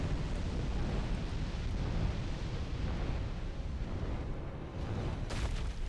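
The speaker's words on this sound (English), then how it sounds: "Throwing a fireball in my direction." An enemy hurls a fireball in the video game Dark Souls 2, a dense, loud roaring rumble that fills the whole stretch, with a brief sharper burst near the end.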